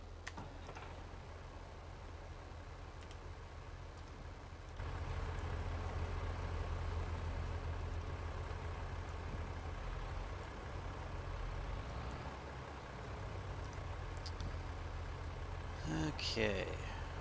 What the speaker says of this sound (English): let's start this tractor up.